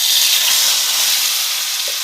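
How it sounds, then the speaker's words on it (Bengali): A paste of greens with nigella seeds fries in hot oil, a loud continuous sizzle and hiss close by, with no voices. "তেল গরম হয়ে গেছে, তেলের উপর দিয়ে দিলাম কালো জিরে, দিয়ে দেবো শাকের পেস্টটা"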